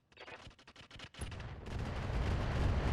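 Mech weapons fire in RogueTech as a Stalker mech shoots at an enemy Panther: a rapid string of sharp gunfire bursts, then a heavy, sustained rumbling barrage of impacts.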